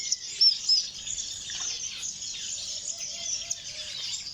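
Small cordon bleu finches and other birds in an aviary give high, thin chirps and tweets, a few brief calls standing out over a steady wash of chatter at moderate distance.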